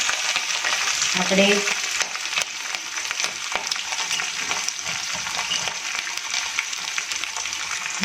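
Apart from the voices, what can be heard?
chilies and curry leaves frying for lemon rice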